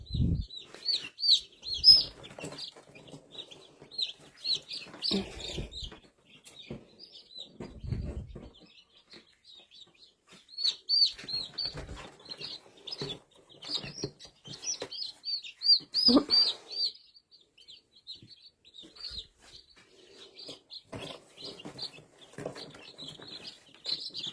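Many small chicks being handed to broody hens chirp in quick, high repeated peeps, close and continuous, with occasional low rustles and thumps between bursts and no talk.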